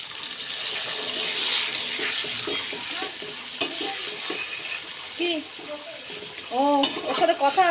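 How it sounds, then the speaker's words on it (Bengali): Water poured into a bubbling aar fish curry with potatoes in a pan, a rushing sizzle that settles into quieter simmering, while a bird chirps repeatedly nearby and voices speak. "দাঁড়া জলটা একটু বেশি করে দিলাম"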